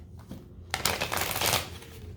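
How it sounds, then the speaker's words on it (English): A deck of tarot cards is riffled and shuffled close by in short, soft rustling bursts of flapping cards that build toward the middle and then fade, with no speech over them. "Actually, let me shuffle a little bit more."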